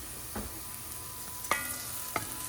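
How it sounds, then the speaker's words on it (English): A spoon stirs demi-glace sauce in a pan on the stove over a soft simmering hiss, with three distinct scraping strokes against the pan spaced out at close range, no talking. "So we'll just keep stirring it"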